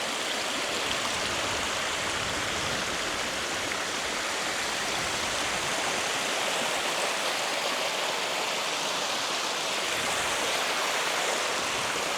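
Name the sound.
small waterfall over sand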